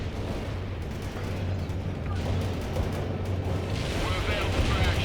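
Artillery fire support in the World in Conflict strategy game rumbles as a dense, continuous roar of distant barrage and low booms, building slightly in strength toward the end.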